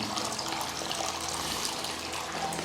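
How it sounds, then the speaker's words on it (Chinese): Strong, clean water pours from an outlet inside a small cave in the Guizhou mountains, a continuous rushing splash that fills the space evenly without pause. "我们来看它这个水流，这边这个水流还是挺大的，而且水也是非常的干净。"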